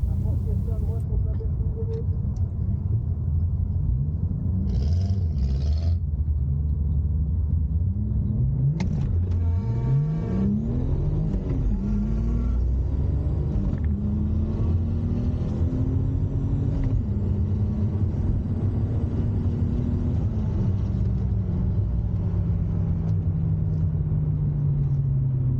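A Ford Fiesta making a drag race run at a drag strip, its engine revving and rising through gears before the tone drops and fades as the car pulls away, with a crowd and commentary layered over it.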